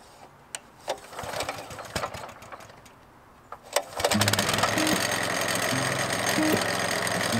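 A Honda garden tiller engine is pulled over and fires up, settling into a loud, steady running chatter after a few quieter knocks and a brief pause.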